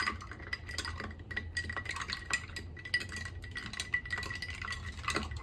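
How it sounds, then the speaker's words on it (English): A spoon stirs ice in a mixing glass for a cocktail with Angostura bitters and Italian amari, producing a continuous soft clinking and rattling close by, fairly quiet, with no talking. "We're going to take some ice and we're going to stir it."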